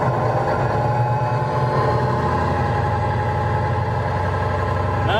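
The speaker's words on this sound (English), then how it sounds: "I'm going to hold down my foot and I'm going to let the idle build, or the engine rev build" Big rig truck engine at a Huntsville depot held at raised revs with the accelerator pressed, a loud steady diesel drone that stays even throughout without dropping back.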